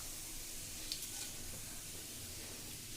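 Cumin seeds sizzle in hot oil, a soft, steady frying hiss with a faint clink near the start and no talking.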